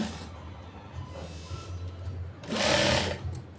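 A sewing machine stitches the sleeves of a ruffle-sleeve blouse, a faint whirring run that swells into a louder burst of stitching near the end.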